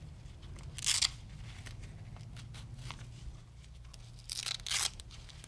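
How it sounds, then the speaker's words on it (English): Hook and loop straps on a Breg LPR ligament knee brace ripping open, two short crisp tearing bursts close up in a quiet room, the second one longer and doubled. "To remove the brace, unfasten all the straps,"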